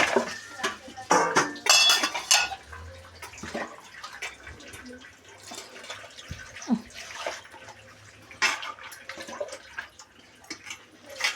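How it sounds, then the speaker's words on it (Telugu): Fish is washed and mixed by hand in salt water in a bowl, with irregular clinks and clatters against the bowl and soft splashing, close up and moderately loud, alongside some brief quieter gaps. "ఇప్పుడు ఫిష్ని సాల్ట్ వాటర్తో నీట్గా కలుపుకోవాలి"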